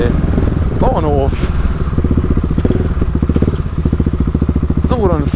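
A Husqvarna 701 single-cylinder motorcycle fitted with a Mivv exhaust runs close by with a rapid, pulsing thump, blipped twice to sharp revving peaks, while people talk over it.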